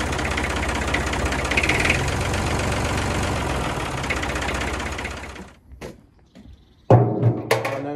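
A vintage Massey Ferguson 35X three-cylinder tractor engine runs loud and close with a steady knocking chug, then cuts out around five seconds, leaving brief quiet before a sudden noisy restart.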